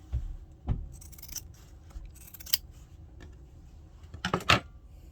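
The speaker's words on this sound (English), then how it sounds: "If it's a little too big, we're going to just cut it." Scissors snip through stiff Peltex interfacing for a children's sewn wallet, a few sharp close crisp cuts with a rapid cluster of snips near the end.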